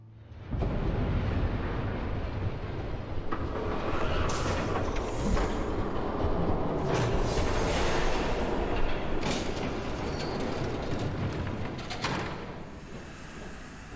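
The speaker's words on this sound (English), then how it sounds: "There's a train coming." A train rumbles past in Batman: The Telltale Series, a loud, sustained roar with rattling wagons that swells in at the start and carries on steadily for over ten seconds before easing off.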